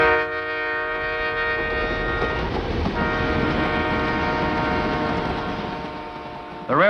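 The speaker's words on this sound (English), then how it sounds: "The railway system now has diesels to pull the country's cash crops to the southern ports." A diesel train on a Nigerian railway sounds its horn in one long, steady, sustained blast, loud and fairly close, fading near the end with a brief voice.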